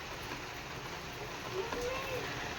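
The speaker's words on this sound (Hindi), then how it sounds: "और अब देखो कड़ाके की बारिश" Steady dense hiss of heavy rain pouring down, constant and enveloping, with a faint brief tonal squeak partway through.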